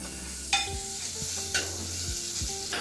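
Pasta ingredients fry in butter in a pan with a steady, close sizzle, while a few spoon-against-pan clinks and stirring scrapes break through at intervals.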